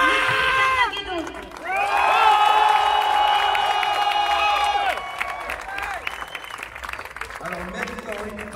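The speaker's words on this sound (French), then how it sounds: "S'il vous plaît, applaudissez très fort, mais vraiment très fort, l'équipe d'Armageddon." Crowd applause and cheering at the Armageddon special effects closing night at Disneyland Paris, sustained and loud across the hall, overlapping a sung musical passage and voices.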